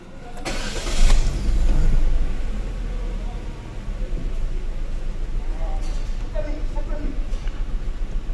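A Chevrolet Spark with an overheating fault and oil mixing into the radiator water cranks and catches with a loud burst, then settles into a rough, slightly uneven idle heard up close while someone talks over it.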